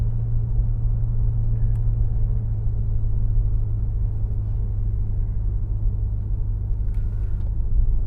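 A BMW F90 M5 Competition pulls away, its engine a steady, heavy low rumble that holds at an even loudness throughout with no voices.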